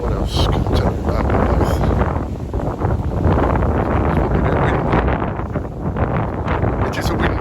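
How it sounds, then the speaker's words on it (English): Strong wind at a Fuerteventura beach resort, seen from a garden bungalow, roars steadily and loudly as it buffets the microphone. The broad gusting rumble continues without a break for the whole stretch. "It is a windy spot here,"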